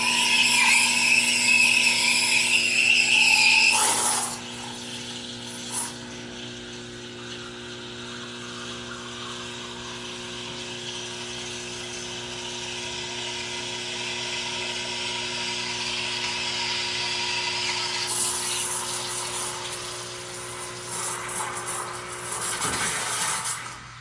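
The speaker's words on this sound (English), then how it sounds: "I think the pump sounds great in this machine" A vibe pump hums steadily inside a Rocket Porta Via portable espresso machine, a close, moderate buzz that starts loud, drops to a quieter drone, then swells again near the end with a brief hiss.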